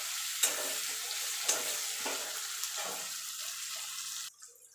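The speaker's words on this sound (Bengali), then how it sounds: "যে পেঁয়াজটা আমি একটু কালার আর রং ধরা পর্যন্ত ভাজা ভাজা করে নেব।" Onions frying in a pan until they take on colour, a steady broadband sizzle with a few sharp stir clatters, cutting off abruptly near the end.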